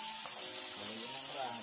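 Tomatoes and chili hitting a hot pan for a sweet and spicy mussel dish, a steady bright sizzle throughout the short moment, with a voice speaking over it.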